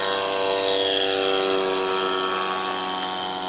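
Model airplanes flying at an aeromodelling meeting give a steady, continuous propeller drone that stays loud and unbroken throughout, with a faint shifting pitch as they pass.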